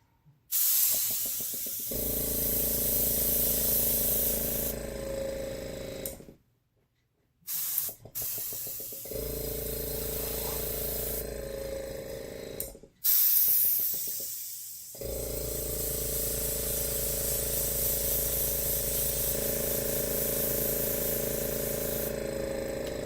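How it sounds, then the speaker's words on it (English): An airbrush sprays paint in long hissing bursts, stopping and restarting a few times, with a low mechanical hum under the spray. "Sorry about the noise of my airbrush."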